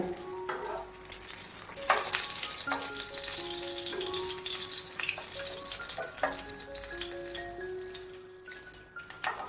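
Stuffed green chillies (bharwa mirchi) fry in a pan with a soft, continuous sizzle, broken by light clinks and scrapes as they are turned over, ending in a faint high squeak.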